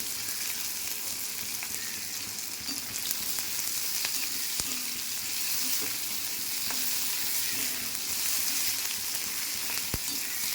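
Chopped garlic, onion, slit green chilies and cut potato frying lightly in oil in a pan for a fish curry, with a steady close sizzle and occasional sharp clicks of a spatula stirring.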